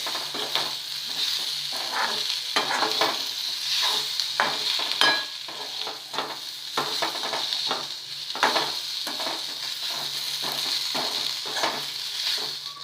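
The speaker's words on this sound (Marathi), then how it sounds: "बटाटी उकडलेली जी पोळी करून घेतलेली आहे ती टाकायची आणि छानपैकी मिक्स करून घ्यायची कांद्यामध्ये" Boiled potatoes are stirred into fried onions in a kadhai, a steady sizzle with repeated scraping strokes of a spatula against the pan, close and continuous with no talking.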